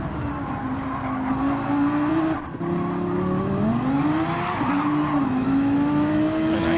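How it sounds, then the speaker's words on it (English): A Mercedes race car in a 24-hour endurance race at Spa drives past, its engine a loud, continuous high-pitched note whose pitch rises and dips through gear changes, with a brief dip in sound partway through. "And I hear the Mercedes right behind him. A good sounding car"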